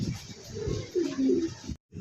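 A pair of pigeons offered for sale gives low, throaty cooing in repeated rolling phrases, close and fairly loud, with a brief cut to silence near the end.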